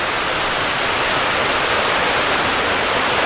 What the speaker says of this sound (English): I can definitely hear water flowing